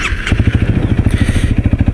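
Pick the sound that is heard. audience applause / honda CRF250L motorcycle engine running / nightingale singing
honda CRF250L motorcycle engine running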